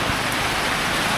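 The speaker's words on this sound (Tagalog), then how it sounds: "Lakas sa ulan." Heavy rain pours down in a steady, dense hiss that stays even and loud throughout, with no voices.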